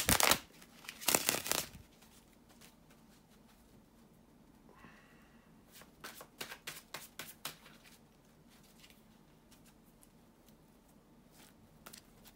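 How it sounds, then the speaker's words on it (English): A short loud riffle of tarot cards at the start, then quiet, followed by a softer run of tarot card shuffling in small bursts. "bear with me a second, guys, to shuffle the cards"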